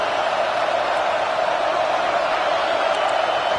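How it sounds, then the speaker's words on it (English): A big stadium crowd in College Football 26 roars and cheers to fire up the defense near the goal line, a steady wash of massed noise with no pauses. "this big crowd doing everything possible to inspire this defense down here near the goal line"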